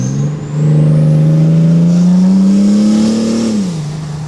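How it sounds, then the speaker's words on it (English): A BMW X5d diesel with an open downpipe revving at full throttle, a loud, close, steady engine roar that climbs in pitch for about three seconds and then drops off. "That was full throttle."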